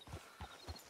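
Hooves of a horse in Red Dead Redemption 2 clip-clop in three evenly spaced, fairly loud steps, close by and with no voices over them.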